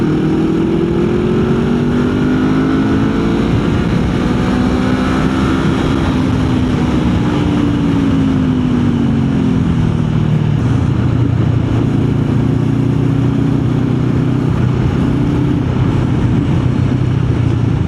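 A 500cc motorcycle engine is held under throttle while riding, with a loud, steady close-up drone whose pitch rises and then falls gradually over wind rush, with no pauses.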